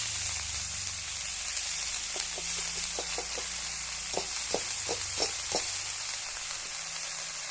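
Fenugreek (methi) greens go into a frying pan already holding small diced potato pieces, setting off a steady sizzle with a run of short, sharp crackles and pops in the middle, close and fairly loud, with no talking.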